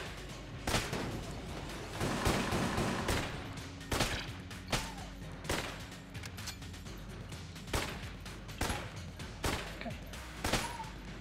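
Gunfire from a weapon in the video game Enter the Gungeon, a string of sharp, loud shots in bursts spaced irregularly over a busy game backdrop, with a brief spoken word.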